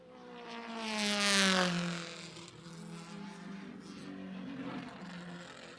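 A Formula Junior race car at practice on the Lime Rock Park circuit, its engine note rising as it approaches, peaking loudly and falling away as it passes, with more engine drone continuing in the distance.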